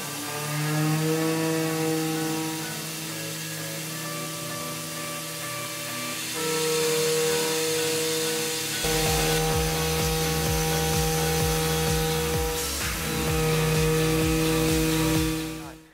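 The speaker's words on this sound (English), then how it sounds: "We'll use that to just rough out the stock around the piece of brass we've got." A single-flute quarter-inch CNC end mill roughs out brass stock, a loud sustained tonal whine with shifting pitch and a rhythmic chattering pulse in the second half.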